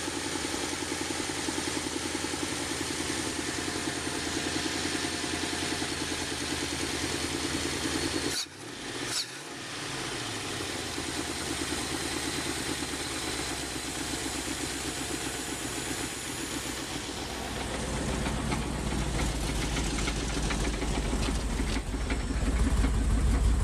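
A truck engine idles on an automixer carburetor, holding a steady, even rumble for over twenty seconds with a brief dip midway and a slight swell in low-end loudness toward the end.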